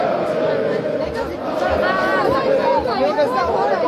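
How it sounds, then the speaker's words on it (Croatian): Thousands of football fans march in a column past the Croatian National Theatre in Split, heading to Poljud stadium for a Croatia national team match. A dense, steady roar of crowd voices carries song-like chanting throughout. "Kolona navijača prolazi pokraj Hrvatskog narodnog kazališta u Splitu."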